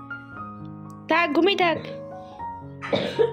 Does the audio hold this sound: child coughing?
yes